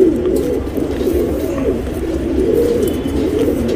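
Male Jacobin pigeon cooing steadily in low, rolling, throaty phrases, close and fairly loud, alone with no talk.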